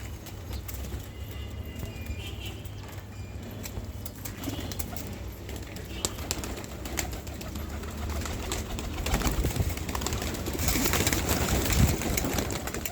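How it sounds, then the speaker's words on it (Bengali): Soft pigeon cooing in a noisy outdoor setting, steady background hum with occasional clatter and movement. "কবুতরকে খাবার দিতে চলে আসলাম"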